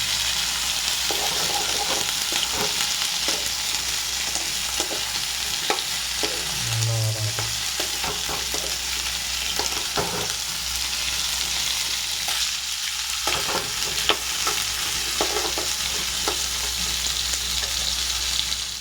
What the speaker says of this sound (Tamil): தக்காளி, வெங்காயம் கட் பண்ணி வச்சுருக்கோம். அது நல்லா வதக்கலாம்.